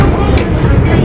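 Trains run on a railway near Mount Mitaka in Japan, giving a loud, steady rumble of wheels on track with a dense low-frequency roar throughout the short moment.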